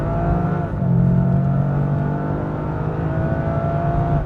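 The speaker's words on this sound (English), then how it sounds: "we are going to give it a bootful out of this corner" A 2025 Toyota GR Yaris in sport mode with track all-wheel drive accelerates hard out of a corner on a track, its engine note rising in a loud, steady, close drone.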